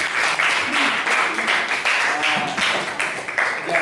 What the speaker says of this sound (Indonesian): Jadi, tepuk tangan dulu untuk Aisyah.